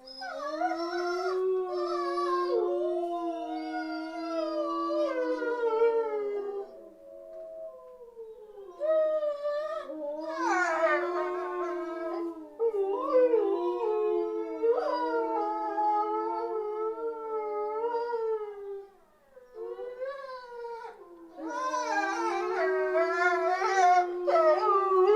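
A dog howls in long, sustained, wavering notes that rise and fall, several overlapping tones layering together, with brief breaths between phrases and clear, close, loud delivery against silence.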